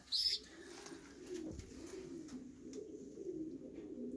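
Racing pigeons coo steadily in a low, rolling murmur throughout, with a brief higher chirp near the start and no talking.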